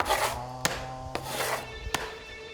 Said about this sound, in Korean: 땅이 여기 면보다 올라와 있기 때문에 여기 면을 긁어줘야 돼요